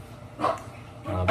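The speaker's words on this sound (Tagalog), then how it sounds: "habang naglalaro yung mga aso." Puppies yip and bark in two short bursts during play, fairly faint and close, with a low background hum.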